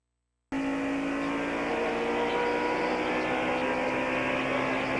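Ricky Rudd's NASCAR stock car engine drones loudly from inside the car during the Phoenix fall race, a sustained steady roar that starts abruptly after a brief silence and holds constant pitch without talk.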